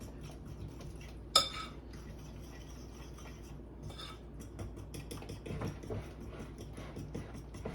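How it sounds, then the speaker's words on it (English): An egg being whisked with a fork in a bowl for a half-box cake batter, quiet rapid clinking and scraping strokes after an initial sharp tap, light and close with no talking. "Whip that there egg up."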